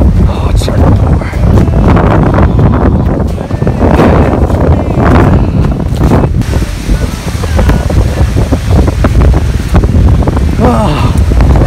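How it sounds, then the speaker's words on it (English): Heavy rain and gusting wind lash a kayaker's spot on a storm-hit lake, a loud, continuous roar of wind buffeting the microphone with a rushing downpour beneath, while a person talks over it throughout. "Oh, it's starting to pour."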